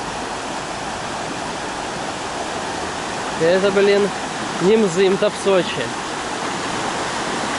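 Düden waterfall in Antalya, Turkey, roars as a steady, loud broadband rush of powerful falling water throughout, with someone speaking over it in the middle.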